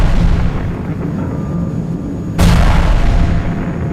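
An artillery shell explodes with a sudden loud boom partway through, its broadband blast ringing out over a steady low rumble of distant battle noise.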